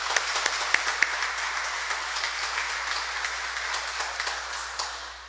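A congregation applauds during a Catholic Mass, giving steady, dense clapping from many hands in a reverberant church. A few sharper claps stand out at the start, and the applause fades slightly toward the end.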